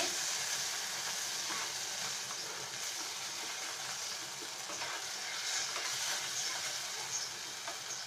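Fish roe curry cooked down with sauce in a pan gives a soft, continuous sizzle and faint stirring scrapes, fairly quiet and steady throughout.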